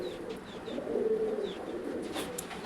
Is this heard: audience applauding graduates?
no